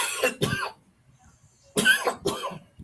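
A man coughs in two separate bursts, each a pair of sharp, close coughs with a quiet pause between them.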